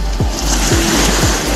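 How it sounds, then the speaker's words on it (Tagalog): Ocean waves surging on a beach during summer, a steady broad wash of surf with low rumbling swells and wind, loud and continuous without any talking. "Pakinggan yung tunog ng mga alon."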